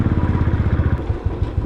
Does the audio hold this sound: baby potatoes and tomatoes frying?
no